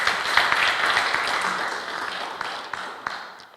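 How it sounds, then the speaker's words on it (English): Audience applause at a labour union meeting with a state sole administrator, a dense patter of clapping that holds steady and then thins and fades toward the end. "Clap for it"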